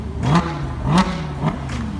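A Lamborghini Aventador SVJ engine revs hard three times in quick bursts, each rising pitch then easing off, loud and close over a steady idling rumble.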